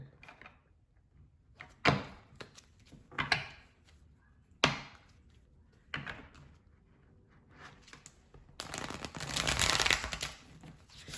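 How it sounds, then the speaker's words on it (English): Tarot cards are shuffled in several separate riffling bursts with pauses between, ending in a longer, louder shuffle, close by with no talking. "Let me get a major shuffle"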